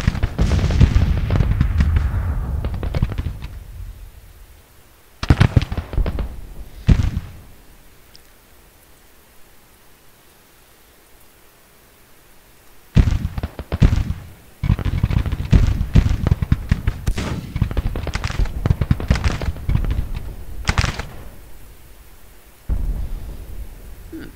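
Whitworth rifles firing in skirmish order during a Civil War battle in Grand Tactician: The Civil War, heard as bursts of rolling gunfire cracks and booms that come in irregular clusters with quiet gaps between, loud and reverberant with no talking.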